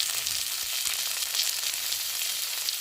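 Tomato with turmeric and spices frying in a pan, a steady close hiss and sizzle with faint crackles throughout and no talking.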